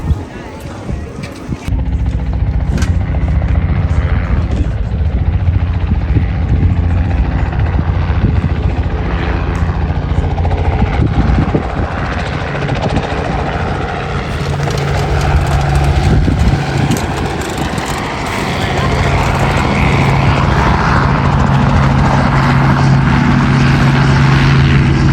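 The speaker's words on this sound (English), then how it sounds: "They're gonna fly the massive drone." Large heavy-lift drone flying at an outdoor farm field day, a loud sustained rotor whir and buzz that swells and shifts in pitch, with people chatting over it.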